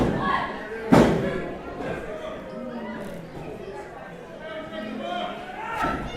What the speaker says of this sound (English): Big clothesline.